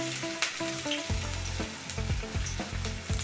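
Spices sizzling in hot oil for a tempering, with dried chilli and two cardamom pods crackling, a loud close frying hiss broken by sharp pops and rhythmic stirring clatter.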